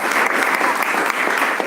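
A church congregation applauding in praise during a worship service, with many hands clapping in a thick, even roar that holds steady and loud throughout.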